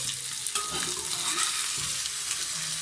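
A steak fries in butter in an old-fashioned Skeppshult cast-iron pan, giving a steady close sizzle. A few scrapes and clicks come as the meat is moved, and no one speaks.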